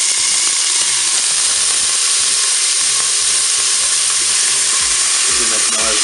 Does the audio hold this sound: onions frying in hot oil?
yes